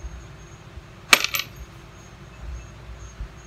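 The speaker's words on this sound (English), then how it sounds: "Get these screws out of the way." Small metal screws rattle and clink as they are pushed aside and dropped in one short, bright jangle on a workbench while a generator cable is built, otherwise quiet.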